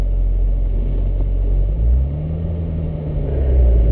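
A Chevrolet Corvette ZR1 rolls along a race track at Spring Mountain, its engine a steady low rumble that swells gently as it picks up speed, droning close and continuous with no voices.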